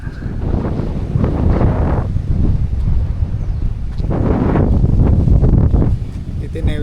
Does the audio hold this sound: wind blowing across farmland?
yes